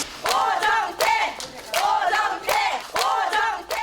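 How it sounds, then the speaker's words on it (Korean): An audience cheers for a comedian turned trot singer, with loud rhythmic chanting shouts repeating roughly every half second and the crowd voices close and energetic. "이들이 이토록 환호하는 이유는"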